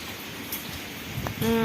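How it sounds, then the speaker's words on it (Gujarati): Rain falling steadily at night during a sudden storm, a continuous soft hiss of drops on surfaces, with a brief tonal hum rising near the end. "વરસાદ હજુ પણ ચાલુ જ છે"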